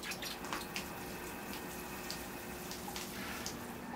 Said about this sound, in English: here I go with the water.